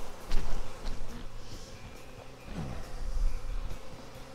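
Honey bees swarming around a hive with a honey super, a dense close buzzing hum that swells and fades over a few seconds, with faint rustles and handling noises.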